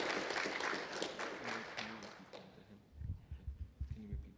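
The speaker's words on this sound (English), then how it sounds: "Oh yeah, applause first." Audience applause after a talk at a programming-languages research conference, steady clapping for about two and a half seconds that fades out as a voice starts speaking.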